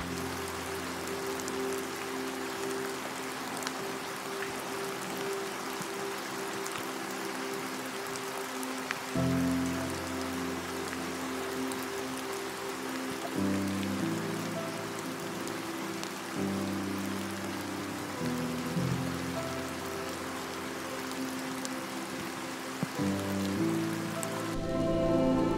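Light rain falls outdoors in a wildlife area frequented by deer and herons, a steady soft patter on surfaces behind a low sustained musical drone, with no voices.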